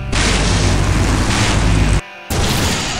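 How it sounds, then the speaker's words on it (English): A loud, sustained explosion roars through the Full Throttle Remastered video game for about two seconds, cuts off abruptly, then resumes with a lower rumbling tail. "Now that's an explosion, ladies and gentlemen."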